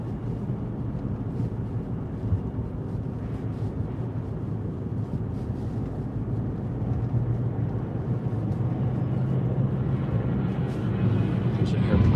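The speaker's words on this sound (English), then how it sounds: "There's an airplane right over me." An airplane passing low overhead near Irving Park Road beside logistics parks, a broad steady roar that builds gradually louder over about twelve seconds, with faint talk underneath.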